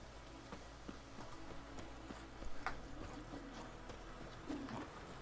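Hooves of the horse Roach in a video game, soft rhythmic clip-clop at a walking pace over a low background hum, moderately quiet with a couple of louder bumps midway.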